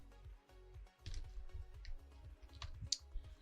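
Password being typed on a computer keyboard: a quick run of light key clicks in short bursts, close and fairly quiet, with no talking.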